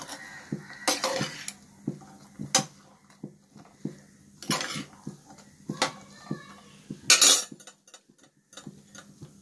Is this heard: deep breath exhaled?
no